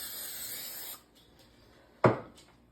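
Cooking spray hisses onto a 9.5-inch pie plate in a steady, close, bright spray lasting about a second, followed by a quieter pause and a short knock of the plate being set down.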